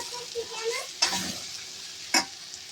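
Chilli paste frying on low heat in a pan for a Telangana-style boneless chicken fry, quiet sizzling broken by two sharp spoon-stirring scrapes, with a brief murmur of voice early on.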